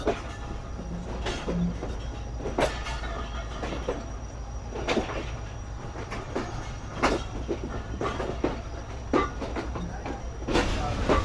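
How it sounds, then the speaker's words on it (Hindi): The Sukkur Express pulls slowly away from a platform on the Karachi to Sukkur route, giving a low rolling rumble with a string of evenly spaced wheel clicks over rail joints. It is moderately faint and continuous, heard from inside with no talk. "आहिस्ता आहिस्ता डिपार्ट कर रही है ट्रेन"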